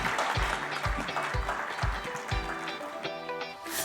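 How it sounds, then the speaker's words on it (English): An audience at a healthcare event on nursing claps over a thumping rhythmic music beat, with the applause spread through the room and music with steady low pulses carrying beneath it. "Please don't stop clapping"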